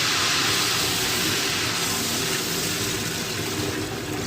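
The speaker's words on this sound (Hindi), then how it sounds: "अब हम इसके अंदर डालेंगे पानी।" Water poured from a jug into a pot of rice for plain pulao, a continuous broad splashing rush that stays loud and steady for the whole stretch, close by and with no talk over it.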